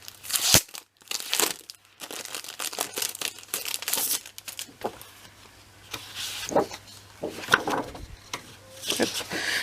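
Sheets of scrapbooking paper are handled close up, producing repeated crinkling, rustling and crisp flapping bursts at an uneven rhythm throughout, with faint background hum.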